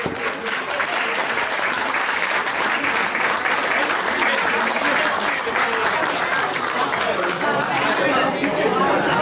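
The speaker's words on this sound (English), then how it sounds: "Let's give them a huge round of applause here this evening" Guests at a wedding reception applaud and cheer during the speeches, with thick, continuous clapping mixed with crowd chatter and voices, staying loud for the whole stretch.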